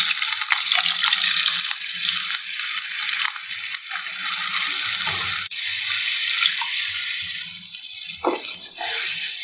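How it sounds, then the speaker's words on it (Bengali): Water poured steadily into a frying pan of curry cooking in mustard oil, a continuous close hissing splash lasting throughout with faint clinks and stirring sounds near the end. "একটু বেশি করে জল দিয়ে দিলাম"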